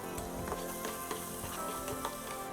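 Onions near golden brown frying in a pan with ginger garlic paste added, for mutton keema masala, giving a steady close sizzle with soft crackles and occasional stirring scrapes throughout.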